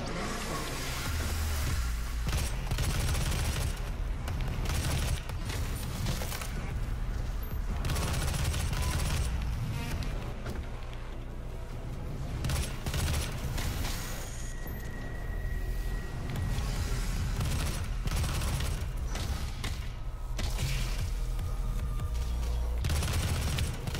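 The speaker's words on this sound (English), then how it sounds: "Shooting in bursts is the way to go with this weapon." Gunfire in a PS4 video game, one weapon fired in short bursts, loud and steady over a dense, busy mix of game effects with no talk.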